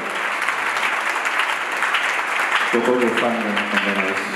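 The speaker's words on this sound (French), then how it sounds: "Acclamons pour Jésus." A church congregation at a Paris service applauds in sustained, dense clapping, with a voice speaking over it partway through.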